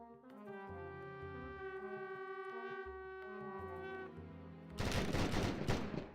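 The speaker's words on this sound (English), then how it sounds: "how many orcs get gunned down from a hail of gunfire?" Volleys of gunfire from Dwarven handgunners in a fantasy video game battle. A dense, loud burst of shots erupts near the end, following several seconds of sustained tonal music.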